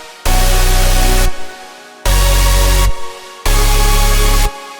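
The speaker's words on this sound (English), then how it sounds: "Altogether, the chord stack sounds like this now." A layered saw synth chord stack with EQ, compression and hybrid reverb plays three sustained, loud chords in succession, each held about a second, with a short reverb tail between hits.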